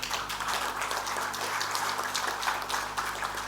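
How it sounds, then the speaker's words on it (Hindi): A large audience claps loudly and continuously at a speech given by the Governor of Uttarakhand, producing a dense, steady roar of applause with no talking over it. "अगर ताली मारनी है ना तो जोर से मारिए"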